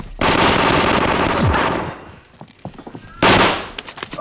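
Video game machine gun fire, a loud sustained burst of rapid shots followed by scattered single cracks and a second sharp burst near the end, close and dense, with no talking.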